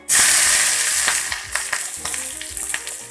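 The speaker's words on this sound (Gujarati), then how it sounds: "તેલ ગરમ થઈ ગયું છે, રાઈ એડ કરીશું" Mustard seeds and chilli pieces hit two spoons of hot oil in a small tempering pan for Surti khaman, bursting into a loud sizzle that settles into crackling pops.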